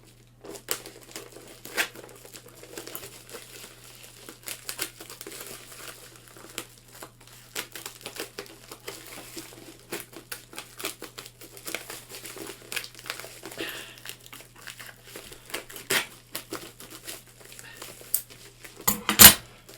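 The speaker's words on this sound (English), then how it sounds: "think I'll use scissors on this one because it's a soft package." Close crinkling and rustling of a soft plastic package, with scattered clicks and snips as scissors cut it open, louder toward the end.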